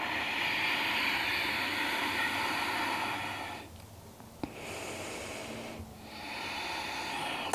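Deep breathing held in a stretching pose during a flexibility and mobility session, heard as long, close, airy inhales and exhales, with a quiet dip between two breath cycles and no talk.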